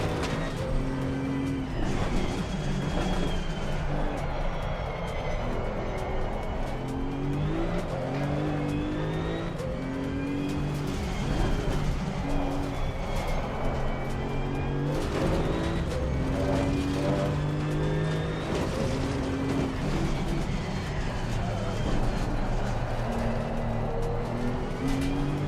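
A race car in the Assetto Corsa Competizione (ACC) video game, its engine droning loudly and continuously as it rises and falls through gear changes and revs, with occasional tire squeal.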